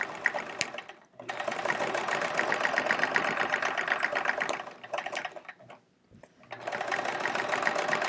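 A sewing machine stitches Echo Swirl free-motion quilting on a Charming Chevrons quilt. It runs in a rapid, steady whir in close bursts, with short stops where the needle pauses.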